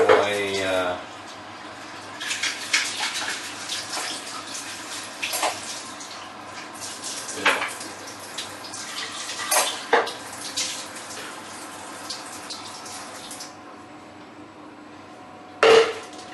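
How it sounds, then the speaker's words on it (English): Tap water runs into and rinses out a shaker bottle that has soaked overnight, a steady splashing wash with scattered clunks of plastic against the sink, heard close and moderately loud with brief talk in between. "Actually gotta wash my shaker bottle because I let that shit soak overnight."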